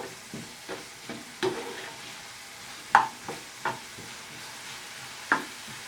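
Corned beef and seasoning stir-fried in a pan over high heat: a soft steady sizzle broken by scattered scrapes and clanks of a utensil against the pan, no voices.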